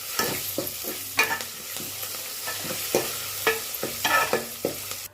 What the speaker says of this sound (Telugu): ఇప్పుడు ఈ మొత్తం మిశ్రమాన్ని కలుపుకోవాలి.